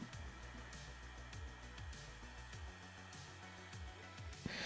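Heat gun blowing hot air onto a car panel, a steady whirring fan hum with a pulsing motor tone underneath, close and even throughout, ending with a brief click.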